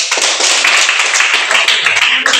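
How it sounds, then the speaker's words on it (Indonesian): A classroom of students claps for a classmate during a math lesson, loud, close, rapid clapping from many hands filling the room continuously, with a few excited voices. "Tepuk tangan untuk Dirli"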